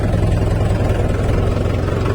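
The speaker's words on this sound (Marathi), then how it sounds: "तर चला आता तिकडं नेऊ ट्रॅक्टर." A farm tractor's engine idles steadily throughout, a continuous low rumbling drone with a faint knocking texture, loud and close with no talk over it.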